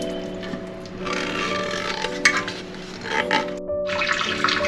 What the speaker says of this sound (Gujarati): હવે આપણે એનું પાણી નિતારી લઈએ.